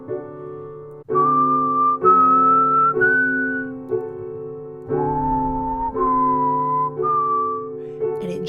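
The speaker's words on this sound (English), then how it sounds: "And he whistles again." A man whistles a melody within a song, the bright tune held in sustained, slightly sliding notes over steady musical accompaniment.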